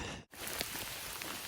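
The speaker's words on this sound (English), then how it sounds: "the raindrops are starting" Rain starting to fall during a thunderstorm on a mountain trail, a steady close hiss of raindrops with a few brighter individual drop impacts.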